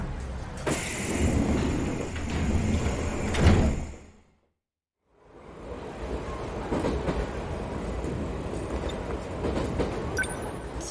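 Train pulling into a station in the video game 13 Sentinels: Aegis Rim, a loud rumbling rush with rattling and a door-like clunk, a brief silence, then the low hum and rattle of the stopped train resumes.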